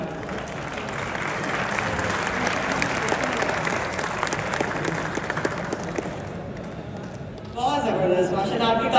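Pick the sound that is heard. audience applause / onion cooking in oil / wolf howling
audience applause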